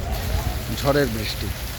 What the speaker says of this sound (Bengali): ঝড়ের বাতাস অবশ্য নেই, কিন্তু বৃষ্টি কিন্তু হচ্ছে, ব্যাপক অনেক বৃষ্টি।